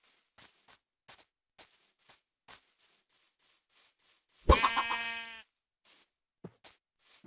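A sheep in the Minecraft video game lets out a single loud, wavering bleat, close and clear against near silence, with faint footstep-like taps before and after.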